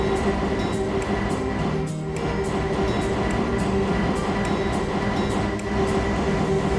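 A train in Minecraft Transit Railway rolls along with a continuous, dense rumble and a steady tonal hum, loud and even, broken by faint rhythmic clicks.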